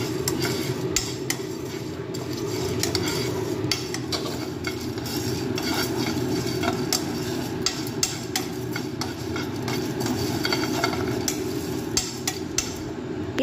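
Mustard seeds, fenugreek, cumin, black pepper and chili are stirred and dry-roasted in a pan over a gas flame, steady scraping and rattling of spices and utensil with a constant sizzling hiss, close and continuous.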